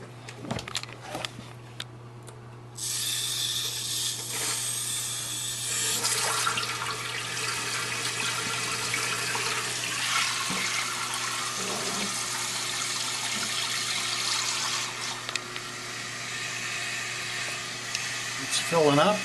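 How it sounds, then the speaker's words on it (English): A toilet tank refills after a valve replacement, a steady hissing rush of water that starts after a few seconds and runs on, with brief handling clunks before it. "So now just need to turn on the water and fill the reservoir and see what the level is."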